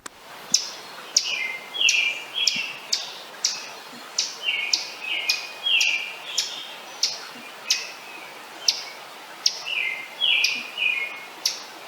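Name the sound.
ovenbird chirping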